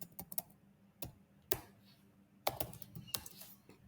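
Computer keyboard typing a database query into a controller file: scattered, uneven bursts of crisp key clicks with short pauses between, fairly close and alone.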